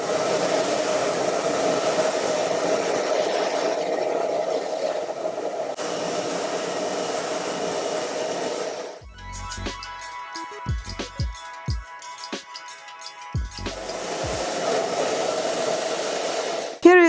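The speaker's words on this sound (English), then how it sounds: "we blow the air from the hair dryer onto the teeth of the brush" A hair dryer blows with a steady, loud whoosh onto the teeth of a hair brush, cuts off for a few seconds of small handling clicks and knocks, then roars back on.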